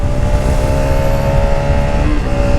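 A 2022 Brixton Crossfire 125 motorcycle, still being run in, accelerates loudly and steadily, with the engine tone climbing and then dipping at a gear change near the end. It is heard up close with no talk.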